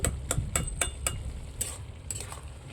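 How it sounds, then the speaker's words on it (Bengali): A spoon scrapes and taps against a pan in a quick series of sharp clinks as coriander leaves are mixed into potato samosa filling, with a low frying rumble underneath. "ধনে পাতাটা দিয়ে এবার বন্ধুরা ভালো করে মিশিয়ে নেব"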